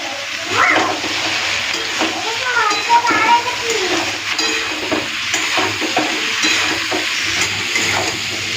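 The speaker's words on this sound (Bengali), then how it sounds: "চলুন এরপরে সবজিগুলোকে একটুখানি ভালো করে ভেজে নিই" Vegetables with salt, turmeric and red chilli powder sizzle loudly in a pan and are stirred with scraping sounds, while a voice talks over the frying throughout.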